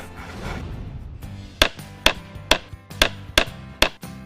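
Hammer blows on a hard surface, about eight sharp, evenly spaced strikes ringing out close and loud after a short stretch of low background noise.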